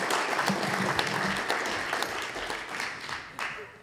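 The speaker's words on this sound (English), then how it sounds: "Round of applause." Applause from the audience at a Go programming conference, steady clapping from a sizeable crowd lasting a few seconds, with faint voices in the background.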